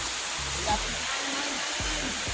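Steady broadband rush of river water flowing outdoors, loud and continuous throughout, with low rumbling underneath and a faint voice briefly audible.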